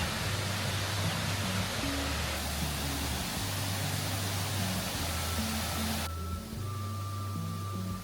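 A waterfall in the south of Mauritius, about 10 metres high, producing a steady, full roar of falling water that stays constant throughout, with faint low tones mixed in beneath it.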